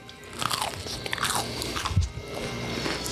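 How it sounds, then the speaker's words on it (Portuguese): A crispy Brazilian biscuit of cassava starch (polvilho) and cheese is bitten and chewed, with loud, close crunches crackling in quick irregular bursts and one sharp bite near the middle; no talking. "eu vou só provar esse pedacinho aqui crocante pra você sentir o drama da crocância desse"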